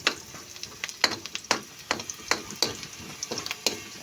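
Cabbage sautéing in a pan with garlic and onion, giving a steady low sizzle broken by sharp, regular clacks of a utensil stirring against the pan, with no voices.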